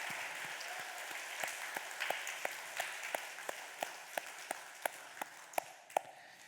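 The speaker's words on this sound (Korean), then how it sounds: "우리 함께 격려와 사랑과 칭찬의 박수를 한번 하도록 하겠습니다" A church congregation at Sunday worship gives a quiet round of applause, soft diffuse clapping that settles into a slow, regular rhythm of distinct claps.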